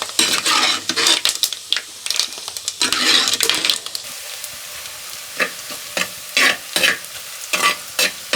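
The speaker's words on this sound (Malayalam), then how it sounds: "എല്ലാ ഭാഗത്തോട്ടും ഇങ്ങനെ വറക്കുമ്പോൾ തന്നെ എണ്ണ ചട്ടിയുടെ എല്ലാ ഭാഗത്തോട്ടും ആക്കി കൊടുത്താൽ നല്ലതാണ്." Grated coconut fries in ghee and oil in a clay pot. A spoon scrapes and stirs in quick rhythmic bursts over a soft sizzle, and the strokes grow sparser toward the end.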